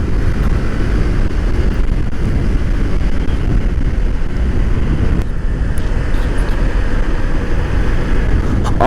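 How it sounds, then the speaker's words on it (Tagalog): Strong wind rushes past the microphone while riding, a loud, constant buffeting roar with low engine-like rumble underneath and no talking. "Napakaganda ng hangin mga choy."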